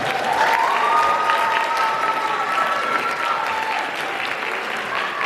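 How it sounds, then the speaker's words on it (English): A school program audience breaks into loud, sustained applause, a thick roar of many hands clapping from start to finish, with a faint sustained musical tone running underneath the crowd. "give her one big round of applause"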